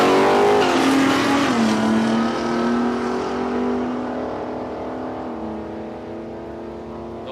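A Holden Commodore VH wagon with roof rack and a Ford Cortina run a drag race at Palmyra Raceway, engine drone falling in pitch through gear changes as the cars pull away and fade into the distance.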